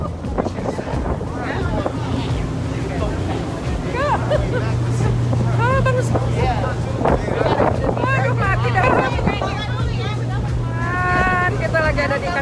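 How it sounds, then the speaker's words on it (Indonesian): Strong wind buffets the microphone on Catalina Island as a steady loud rush, with people talking over it throughout. "Anginnya kencang sekali."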